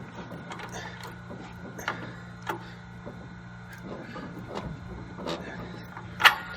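A socket wrench fitted with a 7/16 socket turns a tight bolt on the leaf spring adjustment of a Zamboni's conditioner and blade, giving a series of short clicking ratchet strokes over a steady mechanical hum, with one sharper click near the end.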